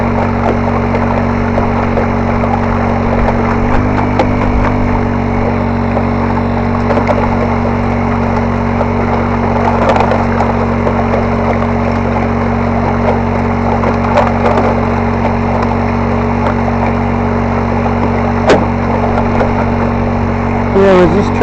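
A new small boat motor runs steadily on the Eagle River, a constant droning hum with some knocks and scrapes, close and loud throughout.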